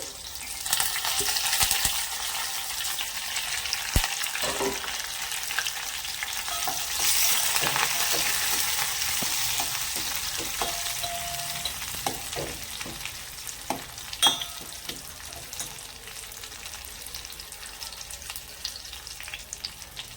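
Curry leaves and garlic crackle in a hot oil tempering in a pan, a loud steady sizzle with scattered pops and occasional spoon stirs, close up and uninterrupted by speech for the whole stretch.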